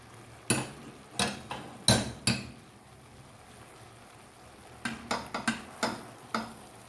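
Crisp spoon clinks against a bowl as a delicate paneer filling for bread pakora is stirred, a run of four sharp taps, a pause, then a quicker cluster of six, close and alone.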